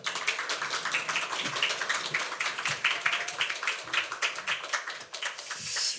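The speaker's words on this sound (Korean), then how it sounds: "박수 한번 해주실까요?" Dense applause and clapping from a church congregation during a Sunday worship service, steady and moderately loud for several seconds with no one speaking over it.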